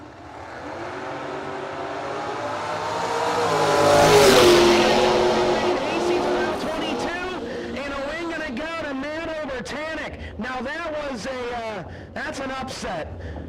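Drag race cars including a Mustang roar down the track at a No Box Open event, a broad engine wail swelling to a peak and then fading, with an announcer talking over it throughout.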